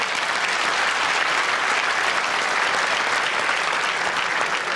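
An audience claps for actor Guyton Grantley, who plays Carl Williams, at the AFL Grand Final Breakfast 2007, a thick, sustained wash of applause, loud and even from start to finish with no voice on top.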